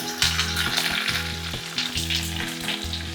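Garlic, ginger and a few green chillies frying in hot oil in a pan, a loud crackling sizzle with rhythmic scraping stirs close by.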